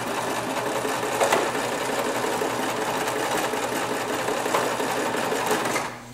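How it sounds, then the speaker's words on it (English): A sewing machine runs steadily and close by for about six seconds, stitching over the folded edge of a cloth diaper pail liner to finish the bag, with a brief easing at the end and no talking. "this is what you are going to sew over right here to finish the bag"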